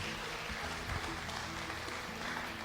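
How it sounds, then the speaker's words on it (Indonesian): Church congregation applauding during a sermon for a guest named Bapak Douglas Oscar; a soft, dense wash of clapping under a steady hum, distant and even across the whole stretch. "Kasih tepuk tangan dulu."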